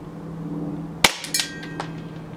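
Airsoft TM/WE G17 Hi-Capa pistol firing, one sharp loud crack followed by a few quicker, fainter pops with a metallic ring, heard close against a low steady hum.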